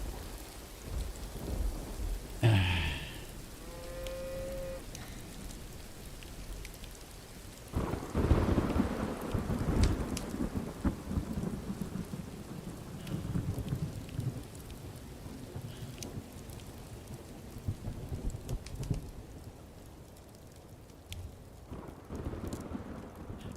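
Rain falling and thunder rolling in the Rising World survival video game, a deep thunderclap early, then steady rain with a second heavy rumble and a long patter that thins toward the end, no talk.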